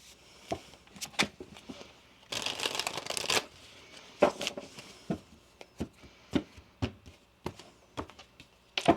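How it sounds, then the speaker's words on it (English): Tarot cards are shuffled by hand in quick bursts of riffling flutter between sharp taps and slaps of the deck, close and fairly quiet with irregular pauses. "One more shuffle."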